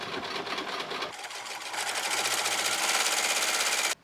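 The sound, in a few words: sewing machine stitching quilted coat pieces together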